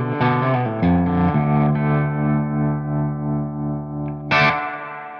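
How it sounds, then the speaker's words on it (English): Electric guitar through a Strymon Flint pedal on its '63 tube tremolo setting, sustained chords pulsing in a smooth wavering rhythm with a fresh strum near the end, loud and alone. "Let's listen to the 63 tube tremolo."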